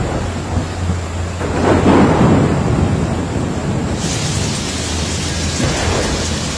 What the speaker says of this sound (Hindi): फिर लगातार 15 दिनों तक बारिश होती रही।